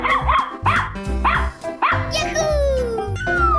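A cartoonish dog in a 3D animal slide video game gives four quick, evenly spaced barks close up, followed by a rising whine and a sliding tone, with game music underneath.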